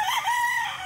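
A giro rooster crows once at close range in a small backyard poultry pen, a single strained, wavering call lasting under a second.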